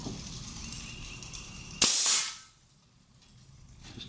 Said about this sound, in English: Just going to put some pin tacks in here,